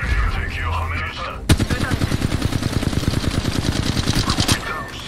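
Rapid automatic gunfire in Apex Legends Mobile erupts after a short lull, a dense string of loud, closely spaced shots lasting several seconds, with a voice speaking over the start.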